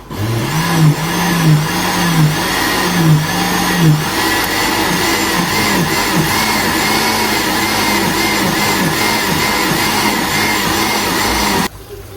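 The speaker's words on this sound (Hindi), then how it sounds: "पालक को अच्छी तरह मैं ग्राइंड करूँगी, बिल्कुल स्मूथली जो है ग्राइंड करूँगी" Spinach, boiled in milk, whirring in a kitchen grinder, a loud steady motor drone with pitch wobbles early on as the blades churn the greens smooth, running alone until it cuts off near the end.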